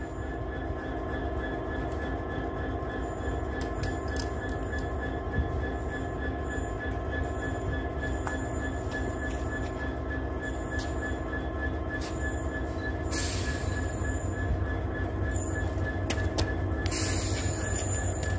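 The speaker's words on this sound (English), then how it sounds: "we've got the Carlisle 70 on a log train now. Going very slow" A Class 70 diesel locomotive hauls a slow log train on the Settle-Carlisle line at Hellifield, a steady, continuous rumble of engine and rolling wagons with occasional wheel squeals and clanks, loud and close throughout.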